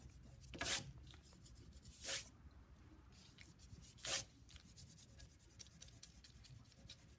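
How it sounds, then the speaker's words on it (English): A pencil mark rubbed out with an eraser while decorating a cactus pot: three short scratchy rubbing bursts, close and faint, spaced apart over quiet room noise. "I'm going to erase the pencil mark."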